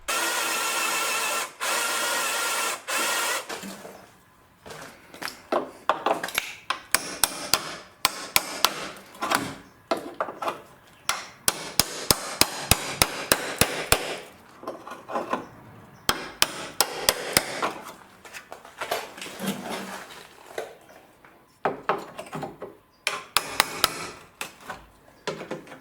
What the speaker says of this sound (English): we're here with our spot weld cutter after we drilled the 1/8 inch hole